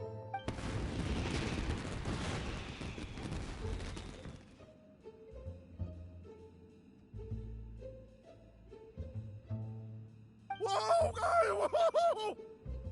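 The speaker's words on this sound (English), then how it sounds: "Yoimiya, this is turning into a bit of a fireworks display" Fireworks burst in the Genshin Impact video game as a dense, crackling barrage for several seconds, followed by scattered quieter pops and a final bright, sparkling crackle.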